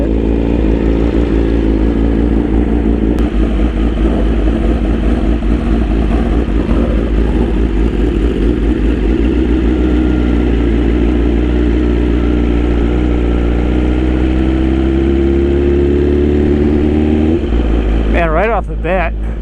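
A BMW S1000RR motorcycle on the move drones loudly and steadily at close range, its engine note holding even before rising in pitch near the end.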